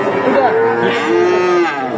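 A cow moos loudly and steadily for about two seconds at a livestock market, a long drawn-out low call close by, with no talking.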